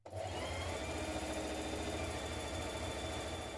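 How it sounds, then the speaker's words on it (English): An overlocker sewing machine runs without a break, stitching up the side seams and across the shoulders of a simple vest top, a steady close mechanical hum with no speech. "Now I'm just overlocking up the sides and across the top of the shoulders."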